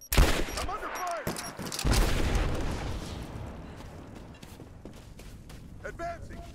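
Gunfire rings out in the video game Rise of the Tomb Raider during a railyard battle: loud bursts and bangs at the start, then scattered shots and rumbling booms, with voices talking over the fighting.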